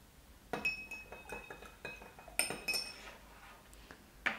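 A metal spoon clinks against a glass of water as baking soda is stirred in, giving a series of sharp, bright taps and rattles, some ringing briefly. The sound is close but quiet, with no talking.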